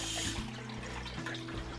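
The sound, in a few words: rinsing broccoli under running tap water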